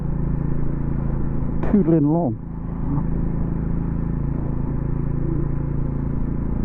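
Triumph Scrambler motorcycle cruising in fifth gear at 30 mph and low revs, a steady low engine rumble with wind noise beneath a rider talking briefly.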